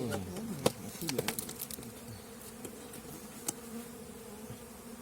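A dense, steady buzzing of a honeybee swarm in a birdhouse fills the air, with faint clicks and soft rustling nearby.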